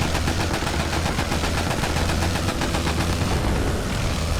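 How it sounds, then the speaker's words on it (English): Dense anti-aircraft fire in the flight game Wings Over Flanders Fields, set in the First World War: a continuous rattling barrage of shots blended with a droning aircraft engine, loud and unbroken throughout. "This is a lot of anti-aircraft fire."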